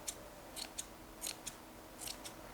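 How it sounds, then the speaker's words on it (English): Scissors snip long yarn threads on a tufted botanical wall hanging, a quiet series of short, crisp cuts arriving in small clusters with brief pauses between them. "we cut all those long threads so the area doesn't absorb too much powder"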